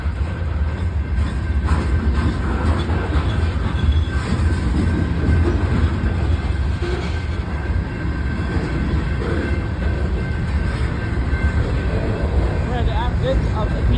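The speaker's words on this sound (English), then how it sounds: "whenever a couple cars were passing, I got a good look at the locomotives" Freight train hauled by GE locomotives rolling past near Fosterville, Tennessee, a continuous low rumble and rattle of railcars with faint wheel clatter, steady and close throughout with voices faintly audible underneath.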